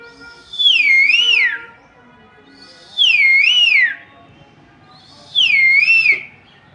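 A man whistles an imitation of a koel's call, three separate rising-and-falling warbled phrases spaced a few seconds apart, loud and close with quiet gaps between them.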